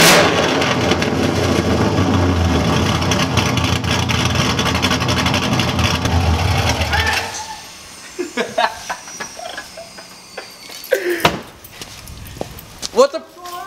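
A straight-piped, cammed LSA V8 in a Pontiac GTO roars loud and raw for about seven seconds, then cuts off, leaving scattered quieter knocks and rustles.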